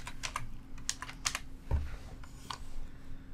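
Close, soft tapping of a computer keyboard as a short name is typed, a quick burst of keystrokes then a few scattered presses and one heavier thump.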